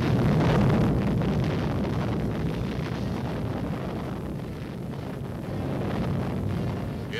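An atomic bomb test explosion in Nevada rumbles as a sustained, heavy low roar that swells and lingers like a distant blast wave, with wind-like buffeting and no voices.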